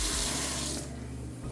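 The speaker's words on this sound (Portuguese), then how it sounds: "olha só que diferente essa torneira aqui" A Deca bathroom faucet over a porcelain sink in a luxury beach house runs loud and steady for about a second, then the flow is shut off, leaving a quieter low hum.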